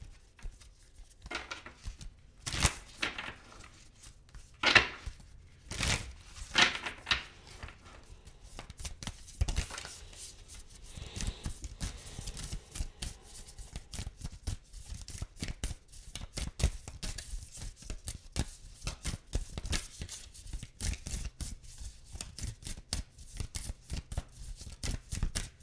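Tarot cards are shuffled in repeated crisp riffles and flutters, sometimes in quick bursts and sometimes more slowly, with a soft tap between bursts, all close by.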